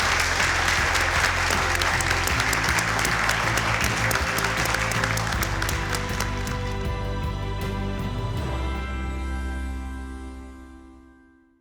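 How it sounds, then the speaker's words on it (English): A large audience claps steadily and loudly for several seconds, with some music underneath, before the applause fades out. "Please give a big round of applause for your family."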